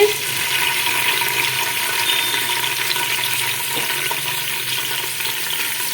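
Steady, close sizzling of sliced onions frying lightly in hot oil in a pressure cooker, with occasional stirring scrapes, continuing evenly throughout without talk.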